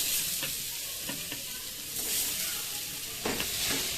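Coconut and sugar filling for patisapta is stirred in a hot wok, giving a steady sizzle broken by repeated scraping strokes of the spoon, close and fairly loud.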